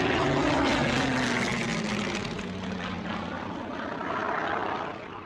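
A Spitfire fighter's propeller engine drones steadily in flight, loud and close, its pitch sliding slowly lower before easing off, with no voices.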